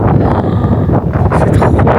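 Strong desert wind buffets the microphone in a loud, continuous rumbling roar that fills the whole clip.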